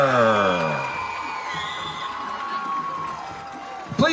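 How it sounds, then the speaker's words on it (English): Crowd at a high school football homecoming ceremony, Valley vs. Freeport, cheering and whooping from the stands, a broad roar that swells loudly at first then settles into a sustained, more distant crowd noise under a public address voice. "Let's give a big round of applause for Sierra Alexander."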